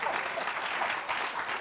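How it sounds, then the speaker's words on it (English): A conference audience at a security talk breaks into brisk, dense applause that fills the hall for a moment, steady and fairly close, with a voice faintly beneath it. "So you can clap."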